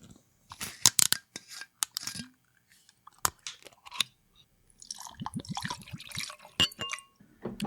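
Sake at 18.5% alcohol poured into two glasses, one over ice on the rocks and one into a wine glass, giving close, intermittent clinks of ice and short liquid splashes in bursts, with no talking.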